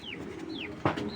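Racing pigeons from a good-bloodline breeding pair give soft, faint coos against a quiet background, with a brief thump near the end and no talking.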